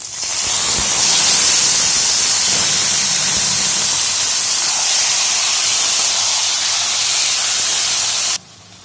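Taro greens dropped into hot oil with fried garlic set off a loud, bright sizzle that swells at once and holds steady, then cuts off abruptly near the end.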